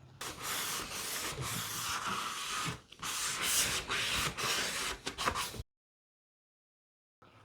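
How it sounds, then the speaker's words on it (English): A soft sanding sponge rubs back and forth over the bevel of a kitchen cabinet being prepared for repainting, a close, continuous scratchy abrasion that stops abruptly into silence near the end. "I'm going to use this soft sponge, which is going to contour to the shape of it and make it much easier to sand."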